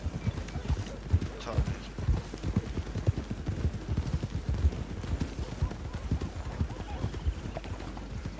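Horse hooves clip-clopping in the RedM Western role-play game, a fast continuous run of hoofbeats with an occasional whinny, while people talk over them throughout.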